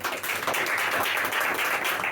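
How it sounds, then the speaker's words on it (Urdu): A church audience claps for the Holy Spirit during a sermon, a dense, continuous patter of many hands applauding together, moderately loud and steady for the whole stretch. "تو روح القدس کے لیے تالیاں بجاؤ گے"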